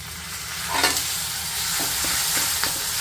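Peanuts and curry leaves fry in hot oil for dudhi handvo, a continuous close sizzle with a few soft spatters and pops rising over the hiss.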